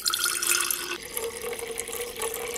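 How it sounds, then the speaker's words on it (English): Phycocyanin liquid, a blue extract, is poured into a jar in a steady, close, continuous stream of splashing liquid lasting a few seconds, with no talking. "And I just pour that into a jar."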